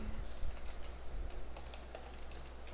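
Account details being typed on a computer keyboard, a run of light, irregular key clicks close by at a modest level with no talking.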